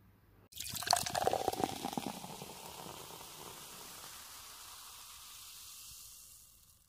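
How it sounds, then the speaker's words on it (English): Beer is poured into a pint glass, a sudden splashing gush that starts loud and then settles into a softer fizzing fill that fades out. "I'll pour you a pint"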